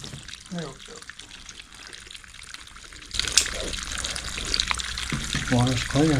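Water draining from a boiler radiator in an old log cabin, a faint trickle that becomes a louder steady pour partway through, with a voice speaking over it.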